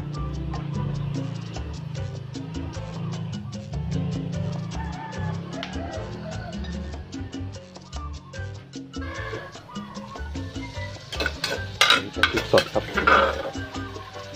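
Pork neck stir-fried with holy basil in a pan, with steady clattering and scraping of a utensil against metal, growing busier and louder toward the end, while someone talks in the background.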